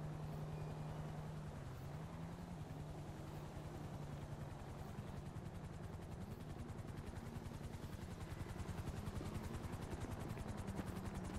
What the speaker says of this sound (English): A helicopter is on its way.